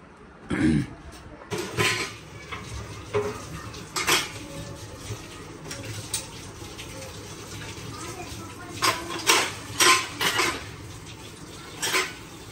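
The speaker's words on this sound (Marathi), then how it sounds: "आता मी भांडी घासते" Dishes are washed by hand in a home kitchen sink, with repeated clinks and clatters of pots, plates and cutlery over running water, heard close up and loud in irregular bursts.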